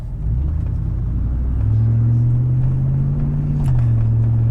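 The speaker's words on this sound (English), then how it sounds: "Like I said, truck's running good." A Silverado pickup truck from around 1999–2006 with a newly fitted radiator drives along the road, recorded from inside: a loud, steady engine drone that climbs in pitch as it accelerates, then eases off slightly near the end.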